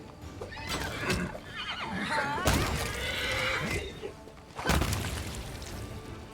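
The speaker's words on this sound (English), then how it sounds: "Several spooky horses." Several spooky horses in the video game Pathfinder: Wrath of the Righteous neigh and whinny loudly over thudding hoofbeats and impact sounds, with two shrill neighs rising out of a busy battle mix.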